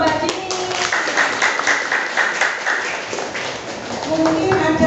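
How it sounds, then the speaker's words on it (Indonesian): Classroom applause for a student named Mbak Dini, a steady patter of many hands clapping together at close range, with voices of students talking over and around the clapping. "aplaus untuk Mbak Dini"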